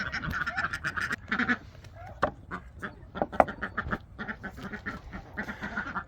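Backyard ducks quack and honk in a lively close chorus, calls overlapping in quick bursts with a few louder squawks, no talking.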